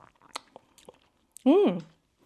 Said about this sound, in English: I'm going to try this olive and then the brine to see what it tastes like